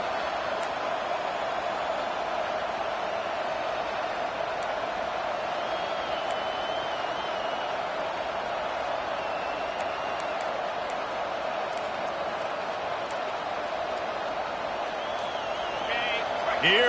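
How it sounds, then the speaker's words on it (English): Home crowd at a college football game, Florida State versus TCU, roaring as a steady, distant wall of noise on third down, with a commentator talking over it. "Here comes this home crowd as the defense tries to get off the field on third down."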